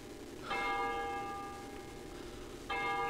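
Church bells toll in the horror video game Cry of Fear, two resonant bell strikes about two seconds apart, each leaving a long shimmering decay, moderately quiet with no voices.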